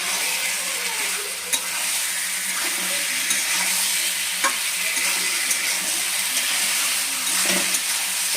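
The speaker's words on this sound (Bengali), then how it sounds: "এঁচোর আর আলুটা একটুখানি ভালো করে কষে নিতে হবে" Jackfruit and potato stirred and fried with masala in a pan, a continuous close sizzle broken by occasional sharp spatula knocks and scrapes against the pan.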